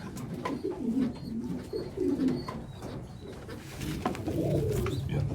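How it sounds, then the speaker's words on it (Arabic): Maltese pigeon squabs in a nest give soft, low, repeated cooing and throaty murmurs, close by and steady for several seconds, with no talking. "ده زغلول مالتي، ده هياخد نقطتين، وده برضه نقطتين."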